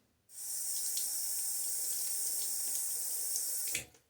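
A bathroom tap runs in a steady, close, hissing stream for about three and a half seconds during a wet shave, then cuts off abruptly.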